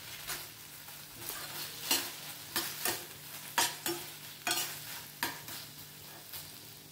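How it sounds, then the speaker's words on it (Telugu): A spoon stirs gobi manchurian in a pan after soy sauce and chili sauce go in, giving a steady run of scraping strokes, about one a second, over a soft frying sizzle, close and fairly quiet. "1 స్పూను సోయా సాస్ని, 1 స్పూన్ చిల్లీ సాస్ని వేసుకొని మరొకసారి కలుపుకోవాలి"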